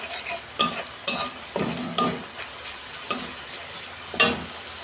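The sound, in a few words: spice paste being stir-fried in a pan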